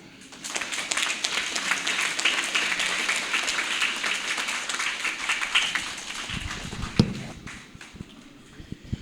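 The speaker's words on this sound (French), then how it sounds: "Applaudissez pour vous les élèves." A school audience at an end-of-year excellence ceremony applauds the students, with dense, bright clapping from many hands that holds steady and then thins out. A few louder claps and knocks come near the end.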